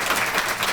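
Luncheon audience applauding, a brief burst of steady dense clapping from many hands.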